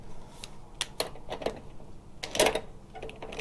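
A wrench works on the wheel bracket of a Toro Recycler mower, giving irregular sharp metallic clicks and taps up close, fairly quiet, with a small cluster of clicks near the end.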